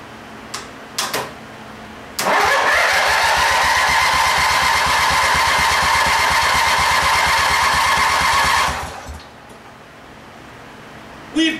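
A lawn mower conversion engine cranks on its starter for about six seconds, a loud, steady grinding whir with a fast rhythmic chug underneath that stops abruptly, with a few clanks before and after.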